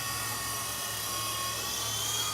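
A Sky Rover Phoenix 4-channel RC helicopter at full throttle outdoors in wind, giving a continuous high-pitched whining buzz, steady and fairly loud throughout.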